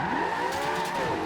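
A rear-wheel-drive Porsche 918 drifts in Forza Horizon 2, its engine holding a steady high drone while the tires squeal continuously through a flowing corner, loud and close.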